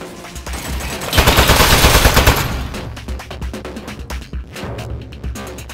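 Rapid automatic turret gunfire in the video game Aperture Desk Job, a loud dense burst of rattling shots that swells, peaks, then thins into scattered bursts over low game music.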